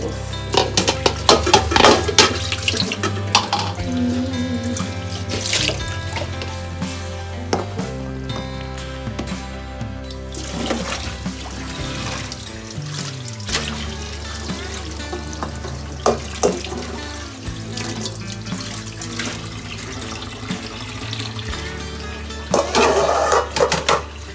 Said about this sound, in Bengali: এবার হচ্ছে হাঁড়িটা ডুবলে দিতে হবে।